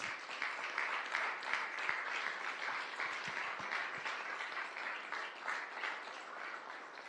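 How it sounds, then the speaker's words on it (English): Sustained audience applause for Korean War era veterans at a recognition ceremony in South Windsor: a continuous, even patter of many people clapping in a room, moderately distant, with no speech. "Can we have another round of applause for all of our veterans?"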